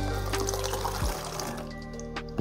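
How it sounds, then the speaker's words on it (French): About 50 ml of diluable all-purpose cleaning concentrate poured into a container, a brief close splashing trickle of liquid that tapers off within a couple of seconds. "donc là je verse mes 50 ml"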